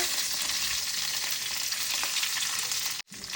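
Mustard seeds, cumin and curry leaves fried in hot oil, a dense loud crackling sizzle up close that cuts off abruptly near the end.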